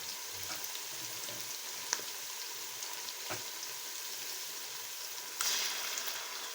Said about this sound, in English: So now I'll be adding the tomato inside the pot.